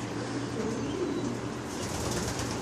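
Racing pigeons in a ventilated loft give a steady low murmur of cooing with soft rustling and shuffling throughout, close and continuous, with no voices.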